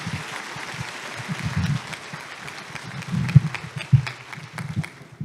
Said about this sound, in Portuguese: Uma salva de palmas para vocês mesmos.